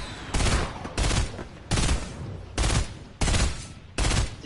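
A minigun fires in Fortnite in repeated heavy bursts, each lasting about half a second, loud and close, separated by short pauses.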